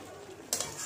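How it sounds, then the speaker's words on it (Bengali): Chicken sautéed in a pan over a high flame: a soft sizzle, then a sudden close scrape-and-stir burst halfway through, brief and moderately loud. "তো এটা কিন্তু হাই ফ্লেমেই কষাচ্ছি"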